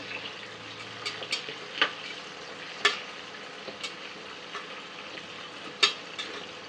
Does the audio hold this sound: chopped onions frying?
yes